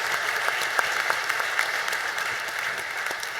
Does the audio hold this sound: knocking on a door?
no